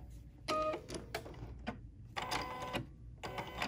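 An embroidery machine sews a placement stitch for a swimsuit design, running in two loud, close bursts of rapid mechanical stitching separated by a quieter pause.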